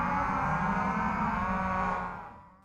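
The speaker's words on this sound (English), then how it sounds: "When it comes time to feed this prized Angus herd, a simple tap of the truck horn gets an immediate response." An Angus cattle herd on a central farm bellows at feeding time, one long loud moo close by that holds steady, then fades away at the end.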